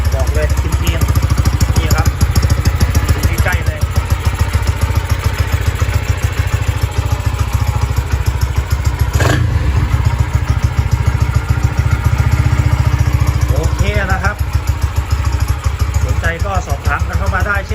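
A Honda Sonic 125 motorcycle with electric start, painted black, idling with a steady low, even engine chug close by, while someone talks over it now and then.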